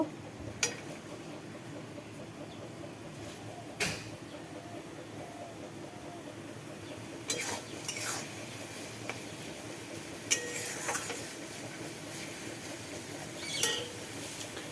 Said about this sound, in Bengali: মশলা পেস্টটা দিয়ে হালকা কিছুক্ষণ কষতে থাকবো